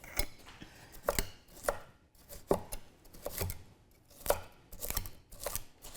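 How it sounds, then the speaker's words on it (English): A knife chops carrots on a cutting board, splitting and dicing them for an Italian chicken soup. About a dozen crisp, close chops come in an uneven rhythm, with no voices over them. "if it's a big carrot, split it again, then just dice it up"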